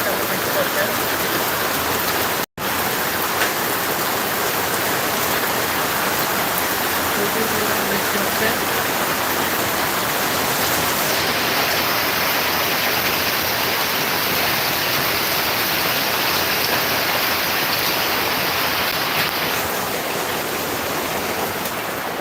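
Heavy rain pours down outside a house in a dense, unbroken hiss of water, loud and constant throughout, broken only by one short cut early on.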